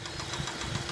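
A faulty engine runs close by with a rough, rhythmic knocking pulse over a steady mechanical drone for a brief moment.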